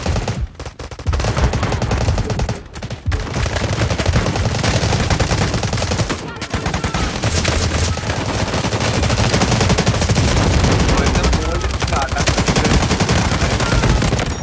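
Loud, sustained gunfire in the mobile game Delta Force, with rapid automatic bursts and overlapping shots, continuing almost without pause throughout.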